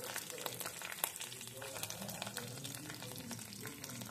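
Chopped onion and chilli shallow frying in a pan while being stirred, a steady close crackling sizzle with occasional scraping stir noises, no talking.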